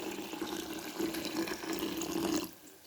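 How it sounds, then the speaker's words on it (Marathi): Sprouted moth beans being washed in clean water, a steady close splashing and swishing of water in a bowl for a few seconds before it quiets. "तर ती आता आपण स्वच्छ पाण्याने धुवून घेणार आहोत"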